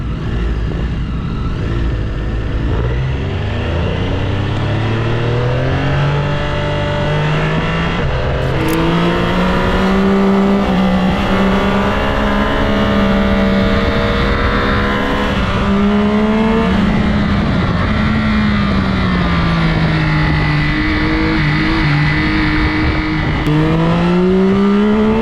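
A BMW S1000 RR motorcycle at full throttle on a race track in Sydney, its engine note rising and falling through gear changes, loud and close throughout with no talking.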